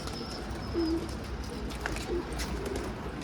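Pigeons cooing indoors, a few soft low coos close by over steady background noise, with no talk.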